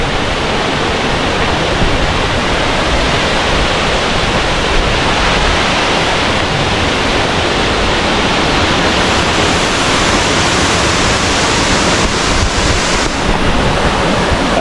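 A waterfall in Da Lat, Vietnam roars as a loud, steady broadband rush of falling water that fills the whole stretch without a break, with no voices over it.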